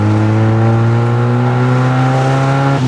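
Mazda MX-5 Miata engine revving, a steady loud rising drone with strong harmonics held close for about three seconds, no talk.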